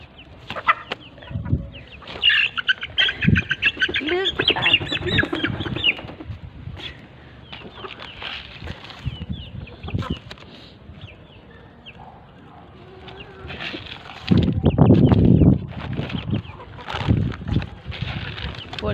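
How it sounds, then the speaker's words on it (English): Chicks being fed maize peep and cluck near and far, with bursts of busy chirping, scattered pecking and handling noises, and someone talking intermittently. "these are my chicks"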